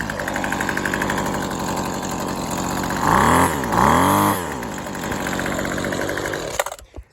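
A Husqvarna 128LD string trimmer, a clutchless two-stroke with its head always spinning, runs loud and close at a steady idle, revving up twice in quick bursts near the middle before dropping back and cutting off abruptly at the end.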